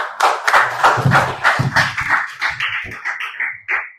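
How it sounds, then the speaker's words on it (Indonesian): An audience at a public dialogue forum claps for three speakers, with dense, lively applause that slowly thins into scattered, fading claps. No voices are heard. "Sekali lagi tepuk tangan untuk 3 narasumber dengan Mas Ngasim Manjanegoro"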